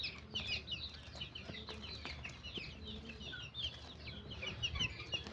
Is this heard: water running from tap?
no